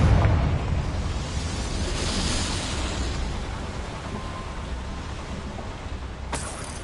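Confringo blasting spell going off in Hogwarts Legacy inside a mine, with a loud rumbling explosion that slowly fades, then a sharp crack near the end.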